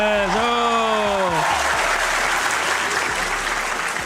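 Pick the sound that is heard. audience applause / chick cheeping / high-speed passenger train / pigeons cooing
audience applause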